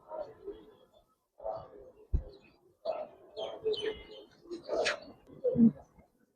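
A Giribaz pigeon at a pigeon farm coos in soft, low, repeated bursts that come close and fairly quiet, mixed with brief chirps while people talk nearby.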